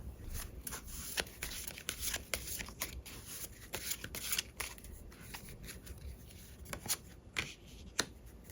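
Tarot cards are shuffled and drawn close by, giving quiet, irregular papery flicks and slaps in soft bursts with no talking.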